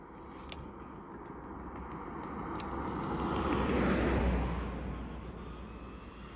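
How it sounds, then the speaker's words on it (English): Road traffic rolls past in a steady broadband wash, swelling to a loud nearby pass around the middle of the clip before fading back to a general roadway hum. "So much traffic."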